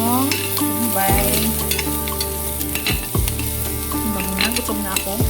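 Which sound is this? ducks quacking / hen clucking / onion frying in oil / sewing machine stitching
onion frying in oil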